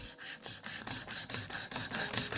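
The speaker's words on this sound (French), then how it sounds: "Et ensuite, je rabats ma lime vers le centre." Rapid, even back-and-forth rasping of a nail file across a gel-coated fingernail, close and soft, around a dozen quick strokes in steady rhythm with no talking.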